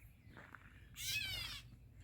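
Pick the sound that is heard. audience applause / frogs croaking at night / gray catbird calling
gray catbird calling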